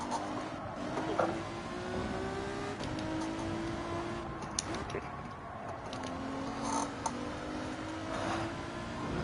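A GT4 race car in Gran Turismo 7 pulls away from a lobby race start, its engine rising in pitch through several gear shifts, with other cars droning nearby and occasional faint clicks under quieter commentary.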